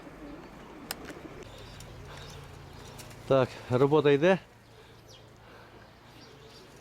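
Short run of soft, throaty pigeon coos, several in quick succession, rising over steady outdoor background hum, with someone speaking briefly before them.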